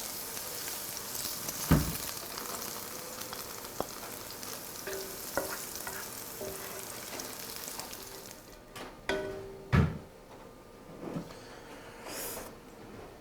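Eggplant fries in a pan with a continuous crackling sizzle. Scattered scrapes and clicks of a utensil stirring sound through it, and a few louder knocks stand out near the middle and toward the end.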